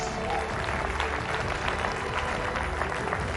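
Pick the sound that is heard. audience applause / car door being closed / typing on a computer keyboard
audience applause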